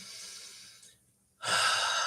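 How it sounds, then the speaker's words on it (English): A single deep breath is drawn in, a soft airy inhale that fades to a short pause before a louder, close exhale rushes out. "Take a deep breath."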